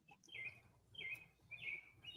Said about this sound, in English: I heard bird chirping